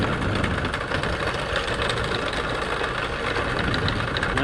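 An Epropulsion Navy6 electric outboard drives a boat forward with a steady, continuous drone and hum, loud and unbroken throughout, with water and wind noise mixed in.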